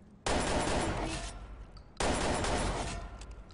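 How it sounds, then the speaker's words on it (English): Two bursts of rapid video game gunfire, each starting abruptly and trailing off over about a second and a half, loud and close. "That's like a trail of gunshots."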